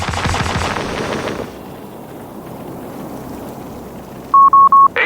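Distant gunfire and wind fill the first part of a Company of Heroes 3 battle scene, then a quieter stretch of ambience follows, ending in three or four sharp, evenly spaced tonal beeps.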